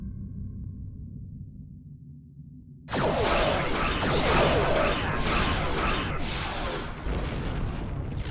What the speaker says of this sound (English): They're not shielded, so we can just use our torpedoes to finish them off